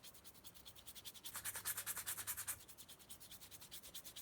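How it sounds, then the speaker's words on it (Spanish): Quick rhythmic sandpaper strokes scratch across dry clay, close and soft, growing briefly louder in the middle before easing back, with no voices. "Podemos pasar bien una lija."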